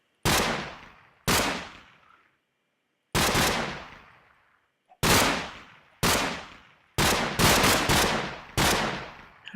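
AK-47 gunfire in Minecraft, loud single and double shots in uneven bursts, each sharp crack ringing out and decaying with gaps of silence between, about nine shots in all.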